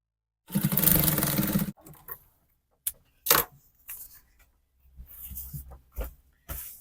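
A sewing machine stitching pleated fabric for a dress, a loud close whirring run of about a second, followed by scattered clicks, thumps and shorter mechanical bursts, with no talking.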